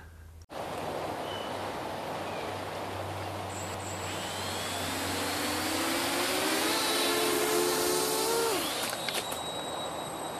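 An electric RC model airplane flies past with its motors whining, a steady buzzing drone that rises and sweeps in pitch as the plane comes nearer and then passes.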